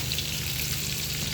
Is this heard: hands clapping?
no